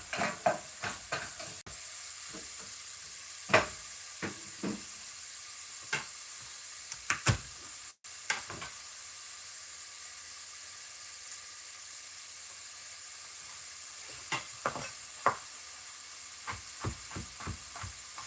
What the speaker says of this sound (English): Give that a quick little stir around